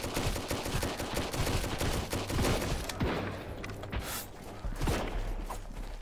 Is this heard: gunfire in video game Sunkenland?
yes